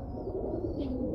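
A Mishi breeder pigeon gives a soft, low continuous coo, close by and steady throughout the brief moment, with no voices.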